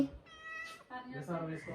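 A pet cat meows in several drawn-out, tonal calls over about two seconds, close by and fairly quiet, with people's voices speaking around and between the meows.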